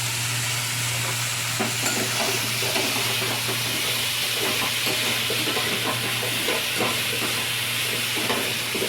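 Khichuri with added turmeric and salt is stirred and fried in a pan, producing a loud, continuous sizzle and hiss with repeated scraping stirs and a steady low hum underneath.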